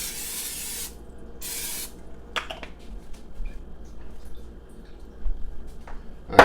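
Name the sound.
cooking spray sprayed into a crock pot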